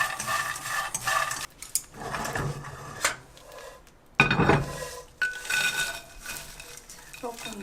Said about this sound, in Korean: 자, 편이 달궈지면 새우를 한번 볶을게요.